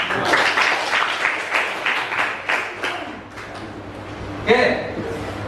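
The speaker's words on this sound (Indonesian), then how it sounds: "tepuk tangan untuk kita semua" A small group claps for a few seconds in a lively burst of overlapping claps, fairly close, with a brief voice near the end.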